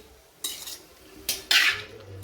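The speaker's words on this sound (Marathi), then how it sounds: "फुलगोबी फोडणी टाकून घ्यायची चांगली मिक्स करून घ्यायची" A spoon scrapes and clinks against a pan in a few quick strokes, stirring cauliflower and peas in tempering close by.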